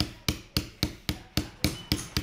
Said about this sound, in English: And when you're chiseling, you want to look at where your chisel is pointed.